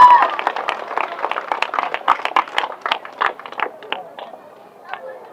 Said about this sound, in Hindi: ताली हो जानी चाहिए, जोरदार तालियां।